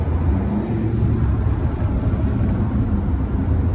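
MG Extender pickup with a stage 2 remap, engine pulling hard under throttle, a steady loud low rumble running without a break, no voices.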